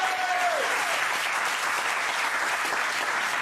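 Studio audience applauding steadily for several seconds during a televised French debate on hunting, a dense wash of clapping from start to finish, with a brief voice-like tone near the start.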